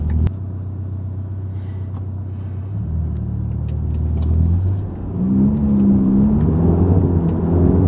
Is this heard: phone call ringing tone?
no